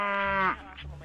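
A calf's moo used as a sound effect in an Indonesian horror-comedy film: a single short, nasal bleating call that drops off quickly, followed by faint low background noise.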